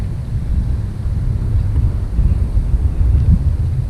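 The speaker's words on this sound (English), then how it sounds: "Ooh, that wind is whipping now." Strong wind buffeting the microphone while out bass fishing, a loud continuous low roar with gusty swells and no voices.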